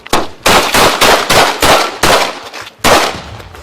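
Rapid gunshots during a police shootout after a high-speed pursuit, about eight loud sharp cracks fired in an uneven burst, very close and harsh, with no voices.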